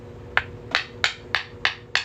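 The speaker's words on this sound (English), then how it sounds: "Usually I can hammer it right off." Six sharp hammer strikes ring out at a steady, roughly even pace on a coin ring cut from a 1965 half dollar, each hit loud and close with a brief metallic ring, no talking.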